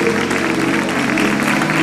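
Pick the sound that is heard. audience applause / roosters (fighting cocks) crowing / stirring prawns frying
audience applause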